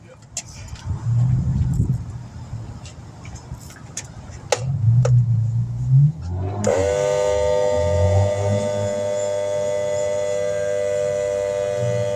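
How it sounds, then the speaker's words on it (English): An air compressor in a garage, used for a tire repair on a 2001 Honda Odyssey, switches on after several seconds of voices and handling noise, then hums loudly and steadily nearby. "I'm going to plug in the air compressor and get that going on."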